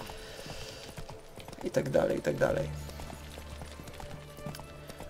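Horse hooves clip-clop in the Witcher 3 game, a steady ridden gait that swells louder around the middle, mixed with game ambience while someone speaks briefly.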